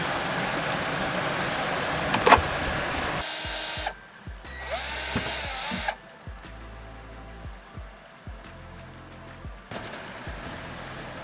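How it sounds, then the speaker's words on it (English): A power drill bores pilot holes into an RV roof, with a few short whirring bursts separated by quieter gaps where soft tool handling and knocks are heard, loud and close. "now I'm going to go ahead and do drill my pilot holes"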